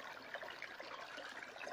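Water rushing steadily through a gold prospecting sluice at a creek, a continuous soft splashing and trickling wash with no voices.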